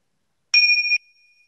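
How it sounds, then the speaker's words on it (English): A single bell stroke closing a mindfulness meditation, a clear bright ring struck once in silence and ringing out with a faint lingering tail. "So use the sound of the bell to come back as well."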